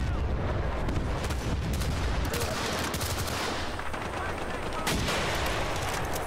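Dense gunfire from the video game Battlefield Bad Company 2 Vietnam, loud overlapping automatic bursts and booming shots filling the whole stretch with little pause.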